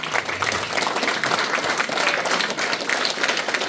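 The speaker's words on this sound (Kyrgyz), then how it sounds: "Кол көтөрүп бир ордуңуздардан бир тур кол чаап коюңуздар ушул балага" Audience applause fills the room at a gathering, steady dense clapping from many hands holding at an even, loud level with no pauses.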